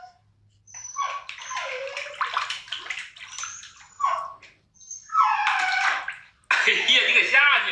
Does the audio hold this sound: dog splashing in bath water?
yes